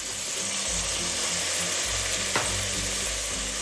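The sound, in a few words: green peas frying with onions and ginger garlic paste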